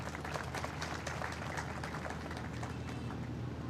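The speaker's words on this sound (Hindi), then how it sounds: "तो इन सब के लिए एक दफ़ा तालियां।" An audience claps in steady, continuous applause throughout, a dense crackle of many hands at moderate distance. No voices can be picked out.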